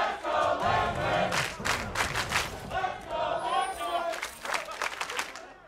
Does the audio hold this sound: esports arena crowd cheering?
yes